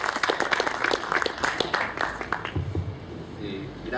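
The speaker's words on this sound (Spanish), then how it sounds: "Recibamos con un fuerte aplauso" Audience at an economists' college event in Lima applauds a guest economist, dense clapping strongest at first then thinning out as a voice begins speaking near the end.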